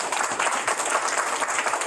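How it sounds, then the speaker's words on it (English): An audience applauds steadily at a World Leprosy Month proclamation signing, a dense and continuous wash of clapping from a roomful of people. "Let's give him a round of applause."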